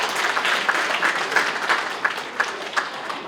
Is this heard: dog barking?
no